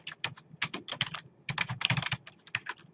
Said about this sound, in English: I'm going to go ahead and start by typing in her name